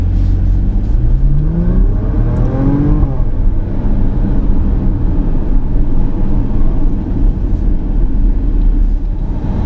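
A 2014 Porsche Macan S turbocharged engine accelerates up through the revs with a rising tone, loud and close from inside the car, then settles into a steady droning cruise without talk.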